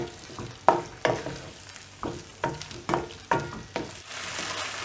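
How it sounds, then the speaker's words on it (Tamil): Prawns fry with onion and tomato in a pan for a spinach prawn thokku. A soft, continuous sizzle is punctuated by about eight distinct stirring scrapes, heard up close with no talking. "எறாவை ஆட் பண்ணிவிட்டு இதை நல்லா ஃப்ரை பண்ணி விடணும்"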